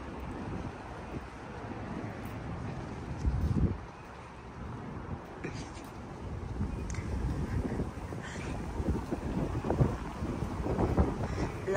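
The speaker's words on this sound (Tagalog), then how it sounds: "Lakas ng hangin." Strong wind buffets the microphone outdoors during a cooking session, a steady low rumbling roar with gusty surges that rise and fall over several seconds.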